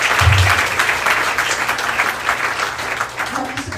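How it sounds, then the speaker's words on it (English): Audience applause and clapping after a keynote speech, a brief burst of moderate clapping that thins out over a few seconds. "Clapping"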